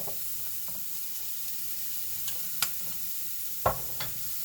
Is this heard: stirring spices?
yes